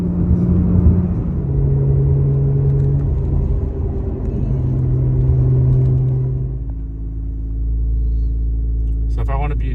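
Acura NSX Type-S fitted with aftermarket exhaust and downpipes, its engine giving a low steady rumble and whir that drops into a quieter idle partway through, with a brief higher burst near the end.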